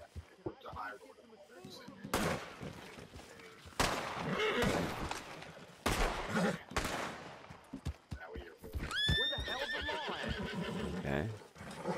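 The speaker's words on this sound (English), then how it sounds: "this is a random horse." A horse in Red Dead Redemption 2 gives a loud whinny near the end, with hoof clops and bursts of gunfire earlier and a player talking over parts of it.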